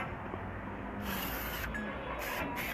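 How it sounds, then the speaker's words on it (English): A handheld spray bottle gives several short hissing bursts, close and fairly loud, with no talking. "You hear this spray bottle?"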